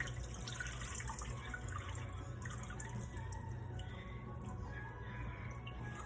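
Tap water running into a sink while rice is rinsed for a Haitian rice-and-red-beans dish, a quiet, continuous patter and drip with no talk, fairly faint and steady.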